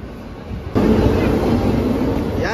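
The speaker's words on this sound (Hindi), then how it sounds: "गाइस मुंबई की लोकल आपको दिखा रहा हूँ, ये आ रही है, इस ट्रेन में हम चढ़ेंगे।" A crowded Mumbai local train pulls into a station, its rumbling roar suddenly swelling and holding loud and close after a quieter opening.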